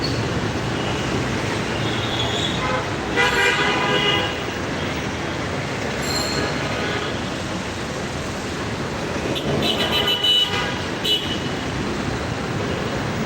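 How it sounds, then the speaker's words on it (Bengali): Busy street traffic in Mirpur Shewrapara, Dhaka, on a rainy day: buses, private cars, rickshaws, CNG auto-rickshaws and motorbikes give a constant loud roar, with several horn toots sounding at intervals. "সড়কে কিন্তু বাস private car rickshaw CNG bike সব ধরনের গাড়ি দেখতে পাচ্ছি"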